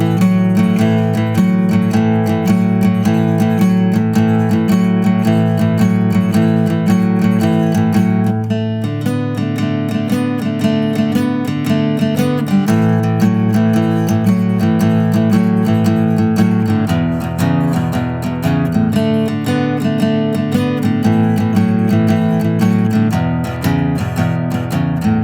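Guitar strums through a 12-bar blues progression in A, steady rhythmic chords at a constant loud level, with changes every few bars and no talking.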